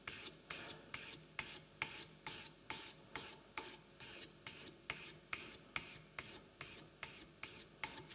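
A moulding plane iron rubs back and forth on a 1200 grit sharpening stone, a steady rhythmic gritty scraping of about two strokes per second, close and even throughout.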